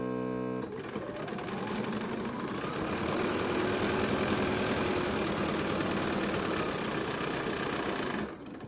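A sewing machine stitches half-square triangle quilt pieces in one steady, fast run lasting several seconds, close and even, starting and stopping abruptly.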